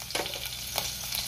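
Green chilies, garlic and cumin sizzle in hot oil in a pan while kokum saar is being made, producing a dense close hiss with a couple of brief spatter bursts over a short stretch.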